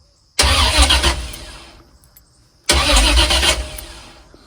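A 1959 Ford F100 engine cranking on its starter through a new ignition switch with the original key and no fuel pump, two loud, close bursts of cranking separated by a short pause, with no start.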